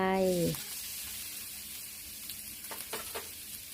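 Pork and garlic stir-fry in hot oil in a pan, giving a quiet, steady sizzle after a brief voice at the start.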